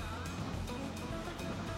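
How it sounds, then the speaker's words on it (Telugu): A forest stream at a hidden waterfall near Mulapadu, Vijayawada, a steady broadband rush of flowing water close by, continuous and fairly loud with no pauses. "నాకైతే ఆ స్ట్రీమ్ ది సౌండ్ వినపడుతుంది"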